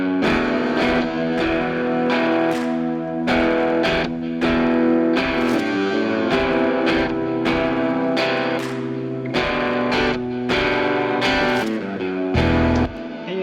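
Stomp-clap southern rock music with a heavily reverberant mix, chords and hits washing into long echoing tails that blur together, steady and fairly loud.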